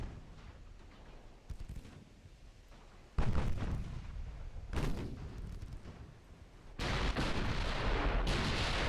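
Naval secondary guns fire high-explosive shells in Ultimate Admiral Dreadnoughts, a run of heavy booming salvos with rumbling tails. Several loud blasts come at irregular intervals, with battle rumble between them.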